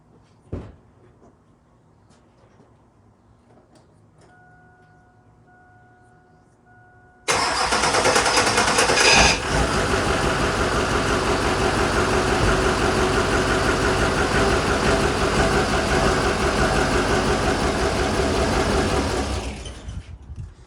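A project truck sits quietly with a few clicks and a faint dash chime, then its engine cranks and catches with a sudden loud roar, settling into a steady, rough idle close by before cutting out near the end.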